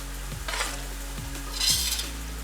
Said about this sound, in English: you guys will actually be able to hear the sound, the noise that's coming out of the oil also starts changing